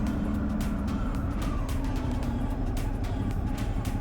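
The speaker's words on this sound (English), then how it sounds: "you can actually hear the sound of the bike quite good" A 2021 Ducati Hypermotard 950 being ridden, with a steady engine drone heard close from the rider's position under constant wind rush.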